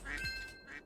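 A cartoonish duck quacks a few times in a Roblox obby game where the player is a bird, short nasal calls standing out clearly over a low game background.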